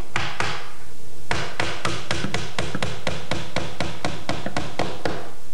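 Hammer blows tack wood trim in place during a trim and vinyl siding installation, a steady run of sharp, evenly spaced strikes heard up close after one brief pause.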